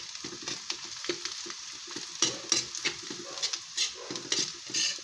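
Garlic sizzles in a pan as it lightly browns, a quiet crackling hiss broken by repeated scrapes and clinks of a utensil stirring, close and without speech.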